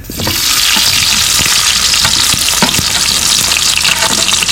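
Garlic and onion fry loudly in hot oil, a dense close sizzle starting abruptly and holding steady throughout, with a few stirring scrapes.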